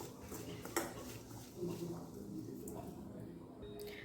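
Coriander is stirred into a chilli ring bhajiya batter in a bowl with a spoon, making faint scraping and clinking under a quiet voice talking.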